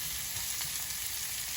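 Garlic, onion and tomato sizzle steadily in a cooking pan, a bright, close, continuous frying hiss with no talking.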